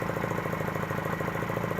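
Junak M11 Cafe motorcycle engine idling steadily and close, with a fast regular ticking from an exhaust valve on the right cylinder that has too much clearance, running alone without voices.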